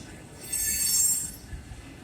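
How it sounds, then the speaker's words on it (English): A Canadian Pacific holiday train passes by in Iowa, a steady rolling rumble with a high metallic wheel squeal that swells in the middle and then fades. "we're gonna be following this holiday train."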